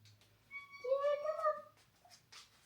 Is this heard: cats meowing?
yes